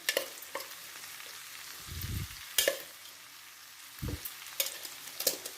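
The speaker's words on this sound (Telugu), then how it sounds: "ఒక ఫైవ్ టేబుల్ స్పూన్స్ పల్లీల పొడి వేసేసుకుందాం ఈ విధంగా అంతా మిక్స్ చేసుకున్నాం కదండి" Peanut powder gets stirred into broad beans frying in a pan, with a soft steady sizzle broken by several sharp scraping strokes of a spoon and a couple of low rumbling stirs, close and quiet with no talking.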